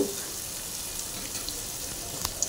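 Paneer fries in a little oil while being stirred, giving a soft, continuous sizzle with a few light spoon taps near the end, close and alone.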